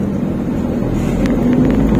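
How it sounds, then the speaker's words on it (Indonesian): A Wuling Confero car engine revving steadily in stop-and-go traffic as the driver eases off the clutch and shifts up through the gears, a continuous loud low hum with a rising tone heard from inside the cabin. "Oke, oper 1, setengah kopling buka, gas-gas."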